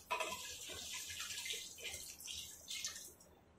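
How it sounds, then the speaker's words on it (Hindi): Milk poured into a biryani pot on the stove, a close, steady liquid splash that tapers off near the end. "इसमें हम थोड़ा सा दूध डालेंगे"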